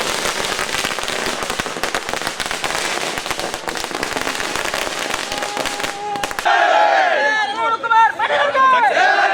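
Firecrackers burst in a rapid, dense string of loud cracks at an election victory celebration, then give way to crowd chatter and raised voices.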